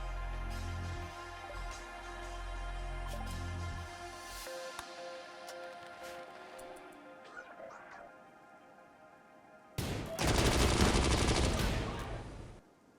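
Gunfire in the colony game Rimworld, with scattered sharp shots over a low hum and tones, then a loud dense burst of firing near the end.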